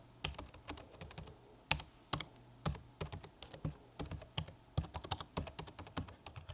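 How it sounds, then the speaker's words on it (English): Rapid, steady keystrokes on a Razer Pro Type Ergo keyboard with dampened mechanical clicks, close and clear in a quiet room with no talking. "The Razer offers a more refined, dampened click, retaining that mechanical satisfaction while rounding off the sharp edges for a quieter office feel."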